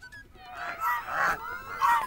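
Geese honking inside a resort grounds at Bardi Pahar, Bankura, several loud nasal honks close by in quick succession, with no talk over them.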